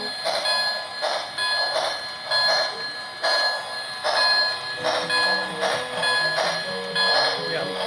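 Old HO scale model trains run with a repeating bell-like ringing in steady pulses, close and clear, while voices talk faintly underneath.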